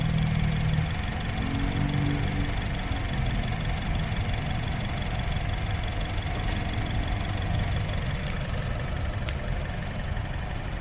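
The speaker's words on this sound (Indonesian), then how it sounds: "Suara irama mesinnya juga teratur" A 2017 Honda HR-V S with manual transmission idles steadily, a close, even engine hum running through the whole stretch with no knocks or stumbles.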